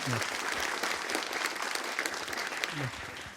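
Audience applause at a civic crowdfunding competition event, steady clapping filling the room throughout with no gaps.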